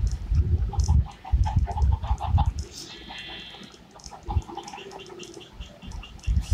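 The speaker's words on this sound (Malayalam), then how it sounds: "നമ്മുടെ കോഴികളൊക്കെ പോകുന്നു." Chickens cluck repeatedly in uneven bursts at close range, with scattered bird calls and farmyard rustle between the clucks and no voices.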